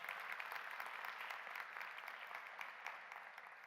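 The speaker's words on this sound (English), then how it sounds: "Yes, you can applaud that." Audience applause fills a conference plenary session on adapting businesses to climate change, a steady, even patter of many hands clapping that holds for several seconds at moderate distance.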